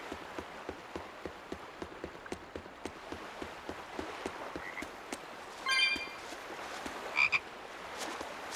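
Frog croaks in Tales of Berseria at Port Renede, heard as a steady train of short, regular clicks and croaks over soft ambient background, with a couple of brighter chirps near the end; no talking.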